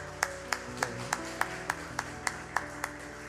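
A church congregation claps in slow, even unison, about a dozen sharp claps spaced evenly apart, fairly quiet and heard from a distance in the worship hall over a faint sustained tone.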